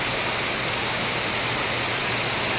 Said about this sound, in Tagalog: Kung narinig nyo, sounds yan ng ulan.